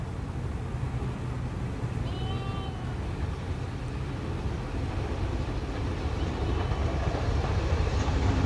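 An LMS Duchess steam locomotive approaches Hellifield Junction on the Settle and Carlisle line, heard as a steady, loud rumble of wheels and engine that swells toward the end, with a brief high squeal near the start.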